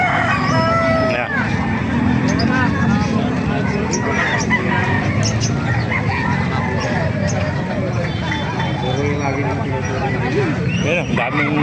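Chickens cluck and a rooster crows amid a busy, noisy crowd of people talking at an animal market in Calumpit, Bulacan, loud and continuous.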